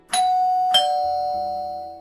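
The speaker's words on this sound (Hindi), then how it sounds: "घर की डोरबेल बजी" A two-tone doorbell chime rings out clearly, a bright high note followed by a lower one that lingers and slowly fades.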